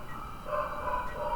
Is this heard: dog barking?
yes